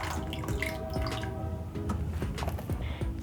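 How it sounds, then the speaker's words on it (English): Buttermilk (mala) is poured into a pot of mutton for biriani, a close liquid splashing and gurgle with light kitchen clatter throughout, no voices. "Then you're going to add about a cup of mala or buttermilk"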